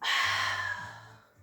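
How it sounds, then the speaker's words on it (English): Long breathy exhale during a pilates mat exercise, close and clear, a single airy breath fading out over about a second, with no speech. "Take your breath and exhale."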